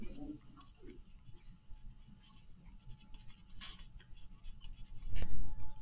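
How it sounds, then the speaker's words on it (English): A soft 2B graphite pencil shades across paper in a steady, close scratching rhythm of short back-and-forth strokes, with a slightly louder scrape near the end. "So now I'm going to use my 2B pencil"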